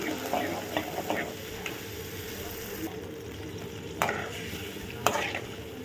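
A spoon stirs rock salt and turmeric into a pot of water heating toward a boil, with a few clinking scrapes against the vessel over a steady low bubbling hiss.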